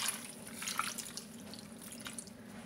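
Vinegar is poured into a measuring cup, making a faint, steady trickle with a few small drips and no talking.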